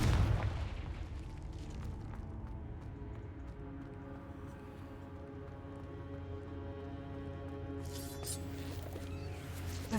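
Confringo blasting spell in Hogwarts Legacy: a loud booming explosion at the start, followed by a long rumbling decay under a steady musical score, with a bright crackling burst near the end.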